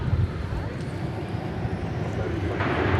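An American Airlines Airbus A321 departs DFW Airport for San Francisco, its low jet engine rumble steady and building slightly toward the end.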